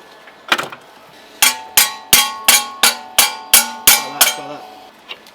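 A hammer strikes a metal part close by during a turbo install on a Nissan Silvia S12 with a CA20E engine, about nine sharp ringing blows in a steady rhythm after one earlier knock, with a faint tap at the end.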